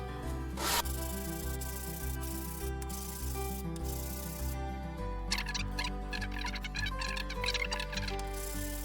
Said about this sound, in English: put the puzzle down like that on a flat surface and then just start sanding it